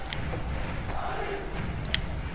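Stadium crowd noise from the eFootball video game: a dense, steady roar of a large match-day crowd, with a few brief louder shouts and claps over the top.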